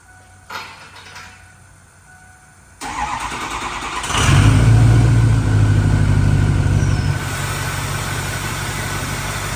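An old mud truck engine with a hood stack cranks and catches after priming, then runs loud and steady at a rough idle, its rumble dropping slightly near the end.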